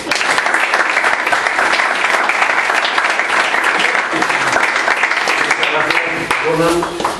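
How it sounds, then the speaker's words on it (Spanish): Audience applause for a guest speaker at a Spanish talk, a loud, dense wash of clapping that holds steady for several seconds before a voice begins to speak near the end. "Un fuerte aplauso, por favor."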